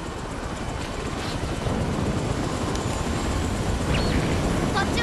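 A constant, dense mechanical roar with rapid low thumping from a helicopter in Final Fantasy VII: Dirge of Cerberus, running nearby, steady and loud throughout.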